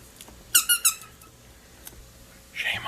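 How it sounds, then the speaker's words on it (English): A squeaky toy pig lets out three quick, sharp squeaks close up, followed by a fainter squeak a moment later, in a quiet room. "He squeaks."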